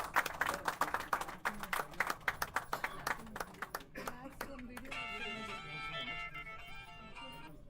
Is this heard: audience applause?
yes